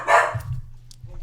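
A human voice imitates a dog barking, giving one short loud bark-like yelp followed by softer, lower mutters that trail off within a second.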